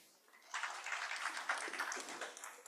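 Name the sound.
audience applause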